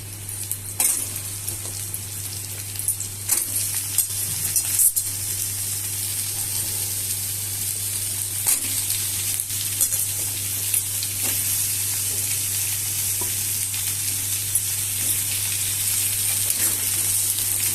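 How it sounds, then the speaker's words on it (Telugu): Pumpkin pieces frying with onions in a pan make a steady, loud, close sizzle with occasional soft clicks of stirring, running continuously with no talk. "ఇవి వేగిపోయినాయండి ఉల్లిపాయలు. తర్వాత గుమ్మడికాయ ముక్కలు వేస్తున్నా."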